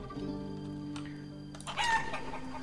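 Chickens cluck in the video game Life is Feudal: Forest Village, brief clucks and a louder rising call near the end over a low steady background, with no talking.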